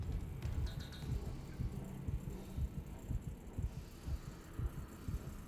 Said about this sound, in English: Oh, listen to Isaac's heartbeat.